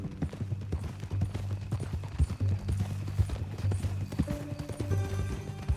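Horse hooves clip-clop steadily in Red Dead Redemption II, a close, rhythmic walking gait on the ground, with a brief whinny and low background game sound underneath.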